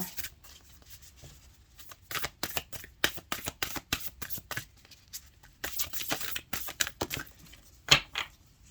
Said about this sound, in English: I'm going to go ahead and grab one of these Lantern Oracle cards.